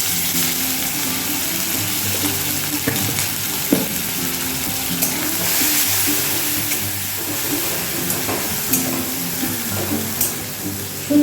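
Tomato paste frying in oil for dhaba-style arhar dal, a loud steady sizzle with occasional stirring scrapes, close up and continuous.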